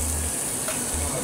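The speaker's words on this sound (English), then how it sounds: "And we're gonna add our onion and our mushrooms." Onion and mushrooms hitting melted butter in a pan for a mushroom shrimp risotto, with a steady, close, hissing sizzle over a low hum and no voices.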